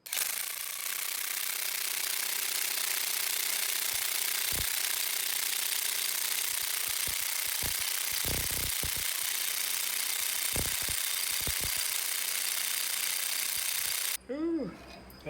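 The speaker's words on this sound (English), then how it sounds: "So the impact wrench didn't really work at breaking it loose" An impact wrench with a 1 1/4 inch socket hammers on the front wheel axle nut of a 2002 Acura TL-S. It gives a loud, continuous rattling burst for about fourteen seconds, then stops abruptly.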